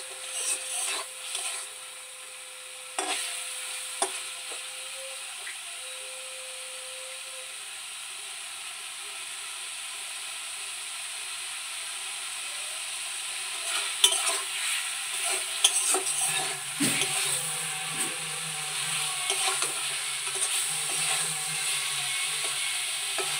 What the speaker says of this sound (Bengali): তো দেখো মশলাটার সাথে ভালো করে মাছগুলো কষিয়ে নিচ্ছি।